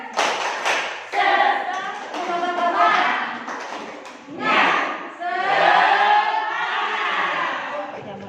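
A group of teachers at a teacher-training workshop perform a rhythmic spirit clap, with loud patterned claps and thumps interleaved with chanted group voices, pausing briefly and then resuming in a second burst.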